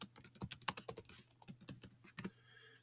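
Rapid typing on a computer keyboard as a command is entered, a close burst of uneven clicking keystrokes with brief pauses, alone without talk.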